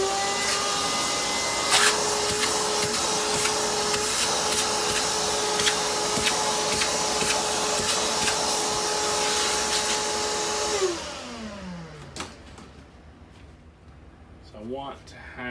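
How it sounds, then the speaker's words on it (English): A vacuum cleaner runs loud and steady while sucking up debris from model railway scenery after holes are drilled for trees, then its motor winds down and stops, leaving a few faint handling clicks. "next thing I'll do is just vacuum up this"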